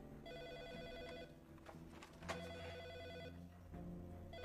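An electronic telephone rings close by in repeating tonal bursts with short gaps between, partly broken by brief rustling noises midway, and no one speaks over it.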